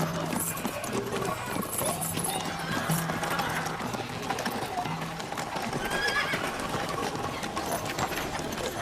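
A horse neighs and its hooves clip-clop at a gallop amid a busy, noisy background, fairly faint and continuous throughout.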